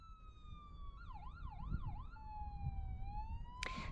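Emergency vehicle sirens wail near a wildfire burning close by among trees, a loud rising-and-falling siren sweep with a rapid yelp section, over steady road and engine rumble, with no talking.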